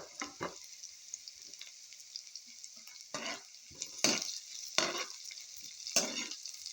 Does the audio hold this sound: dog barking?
no